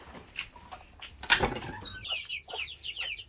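Chickens cluck softly at first, then a burst of rustling, followed by a series of high, thin chick peeps close by.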